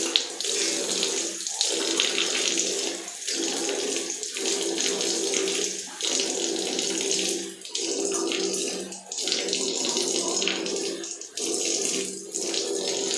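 A bathroom tap runs water in a steady, loud stream for rinsing after cleaning, with brief rhythmic interruptions where hands or a cloth pass through the flow.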